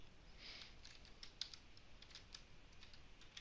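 Faint, quick clicking of keys being typed on a computer keyboard, an uneven patter of light taps with no talk.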